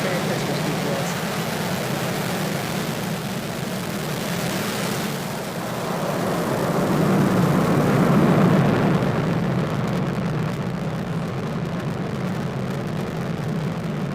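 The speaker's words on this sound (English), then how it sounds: "Ignition, liftoff." SpaceX rocket engines igniting at liftoff for a GPS III launch, a steady broad rumbling roar heard from a distance that swells in the middle and holds on, with no talk over it.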